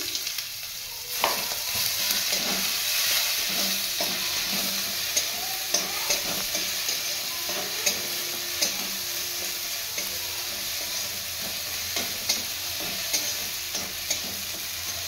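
Garlic with grated ginger and green chili fries in hot oil, giving a continuous close sizzle and regular metallic stirring clinks and scrapes throughout.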